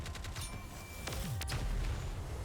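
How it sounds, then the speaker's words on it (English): Rapid gunfire and explosions ring out in the NIKKE x NIER collab event battle, a dense fusillade of sharp shots under low booming blasts, loud and continuous. "Explosion. I did it."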